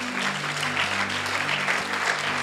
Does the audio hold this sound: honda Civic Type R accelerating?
no